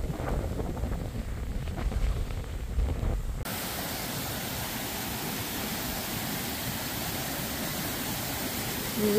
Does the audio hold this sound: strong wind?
yes